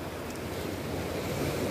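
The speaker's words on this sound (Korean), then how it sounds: "바닷소리만 들어도 마음이 천천히 힐링되는 것 같습니다." Sea waves rolling in at Daepo harbor in Sokcho, Gangwon Province, near a breakwater and lighthouse; a steady, broad wash of surf with some wind rumble, continuous and fairly close, with no voices.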